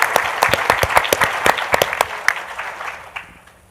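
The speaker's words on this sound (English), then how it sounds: "And I think that bears a round of applause." Loud applause from an audience at the opening session of an annual scientific meeting: close, crisp claps in a rapid cluster that thin out and fade over a few seconds.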